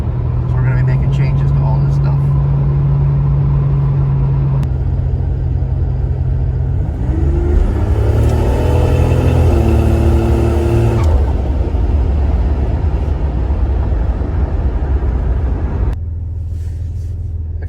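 A Buick Grand National engine, tuned with a TT chip, is run at wide open throttle during a tuning pass on a hot day. It is loud and close, with a steady rumble that climbs in a hard rising rev before easing off, under some talk.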